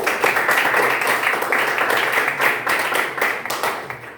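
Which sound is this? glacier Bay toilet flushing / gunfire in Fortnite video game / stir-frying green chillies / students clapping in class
students clapping in class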